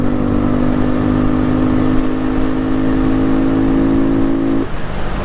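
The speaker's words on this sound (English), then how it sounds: "There we go, full throttle." A 2022 Honda Navi small motorbike engine holds steady at full throttle with a loud, continuous high-revving drone, then the pitch drops abruptly near the end as the throttle is released.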